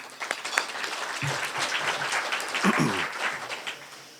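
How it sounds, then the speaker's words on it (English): Audience applause fills a room at a Pasco Chamber of Commerce November luncheon, steady and moderately loud throughout, with some murmured voices mixed underneath. "Please give them a round of applause in helping us out."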